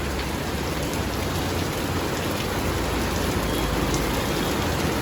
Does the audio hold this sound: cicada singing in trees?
no